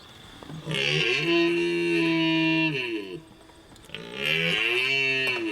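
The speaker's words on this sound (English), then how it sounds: "when they mate, the male elks do that whistle" High, piping whistles of a male elk's mating call, with rising and falling harmonic tones, two long calls separated by a short pause, close and loud.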